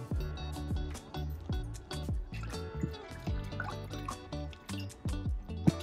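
Water is poured onto a houseplant's soil, giving a series of close, soft drips and trickles in an uneven rhythm, with a small clink near the end.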